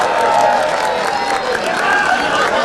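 Dense crowd noise at a FlipTop rap battle, with broadband clapping and cheering that stays steady and loud throughout, mixed with murmured voices.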